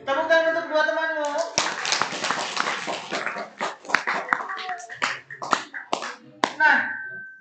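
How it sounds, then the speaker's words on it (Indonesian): Children clap for two classmates during a storytelling session, a burst of sharp claps and taps mixed with excited kids' voices, opening under a sustained child's call and trailing off with chatter. "Tepuk tangan untuk dua temanmu."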